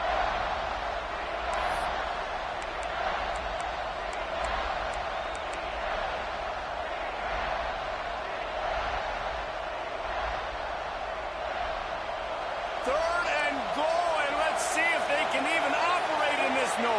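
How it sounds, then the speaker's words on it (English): A roaring stadium crowd at a UCLA versus Florida State college football game forms a dense, sustained wall of noise that swells louder near the end, with commentators talking over it. "with this place rocking, the crowd forces a false start"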